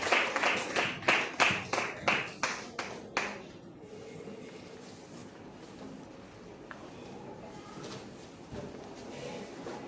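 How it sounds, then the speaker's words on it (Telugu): An audience at a Shroud of Turin lecture in Gudivada, India, claps in a series of sharp rhythmic bursts, roughly a dozen beats in quick succession, then fades into quiet room noise. "చప్పట్లు కొట్టి దేవుని నామమున మహిమ."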